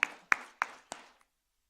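Four slow, separate claps ring out close and fairly faint at an even pace, a sparse welcome for a panelist taking the stage at a youth climate conclave, then silence.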